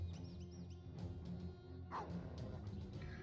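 A dog barks a few times in the video game Battle Brothers, soft and slightly distant, over a steady low game background.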